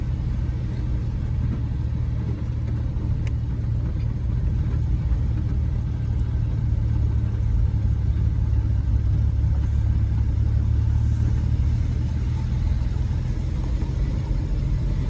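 A 1933 Cadillac V12 Town Coupe runs along in second gear, its engine a steady, deep, continuous rumble close by with constant road and cabin noise, no voices.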